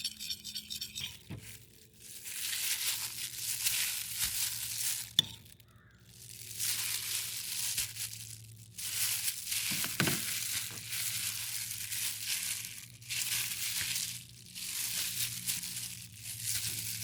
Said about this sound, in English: Then I mix the sauce.